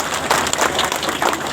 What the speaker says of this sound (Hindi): अपन वक्तव्य के दिला एक जोरदार ताली से स्वागत करना